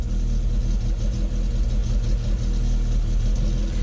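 A Rover 25 GTI with a high, rough idle and over-fuelling fault sits idling while warming up, a steady low rumbling engine drone with slight unevenness, close and continuous, no voices.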